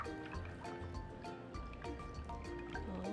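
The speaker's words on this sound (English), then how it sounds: "Now we're gonna pour all of our eggs into the pan." Beaten eggs poured into a 9x13 pan, a soft liquid glugging and dribbling with small splashy drips, close and quiet, with no talking.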